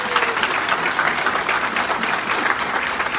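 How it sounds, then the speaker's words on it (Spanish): A congregation breaks into loud, sustained applause right after a church baptism, many hands clapping in a dense, even patter that fills the space without talking over it. "Ok, un aplauso."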